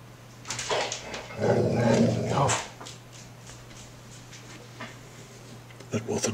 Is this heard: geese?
no